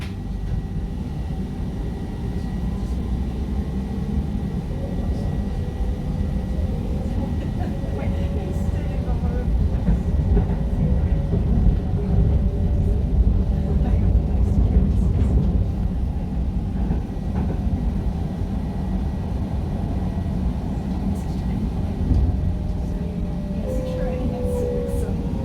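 Stadler Class 555 metro train running between stations toward South Shields, heard from inside as a steady low rumble and rolling drone with faint squeals throughout.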